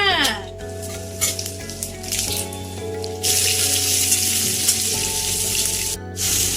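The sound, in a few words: meat and potatoes frying in a pan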